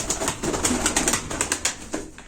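A male play pigeon, lifted by hand, flaps its wings close up in a quick series of rhythmic, papery beats over about two seconds, with no voices.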